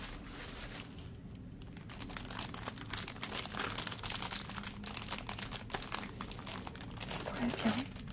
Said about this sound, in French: on va commencer par ouvrir le paquet